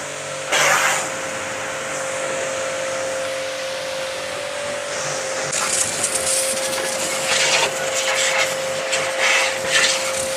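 A cordless car washer's motor runs continuously as a steady electric whine and hum, shifting in character partway through as the speed setting changes, with light rubbing noises on top.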